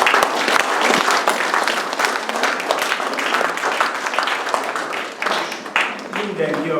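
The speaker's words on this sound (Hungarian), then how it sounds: "Én szerintem ők is egy tapsot megérdemel." An audience at the closing ceremony of the 2024 Román Viktor art camp gives a long, steady round of applause, full and dense from start to finish, with a voice briefly audible near the end.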